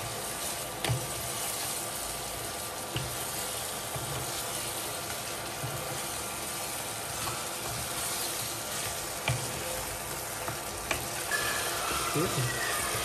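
Crab pieces stirred and frying with spices in a pan, a steady close sizzle with intermittent scraping stir strokes throughout, alone without talk.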